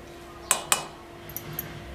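A spoon tapping against a vessel while adding black salt, two sharp metallic clinks close together followed by two fainter taps in a quiet kitchen.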